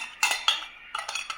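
Steel bowls from a 30-piece utensil set being handled, giving a few bright metallic clinks and clatters in short bursts, close and clear with quiet gaps between.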